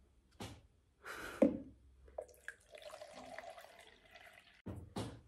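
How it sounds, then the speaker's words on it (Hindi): Water is poured from a heavy, fully uncapped bottle into a container nearby, with short splashing gushes, gurgles and trickles between a few handling knocks, and no talking. "अब मैं ये पानी इसमें डाल देती हूँ"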